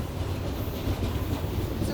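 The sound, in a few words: gold freight train passing on rails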